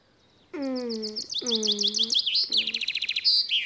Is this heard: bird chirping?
yes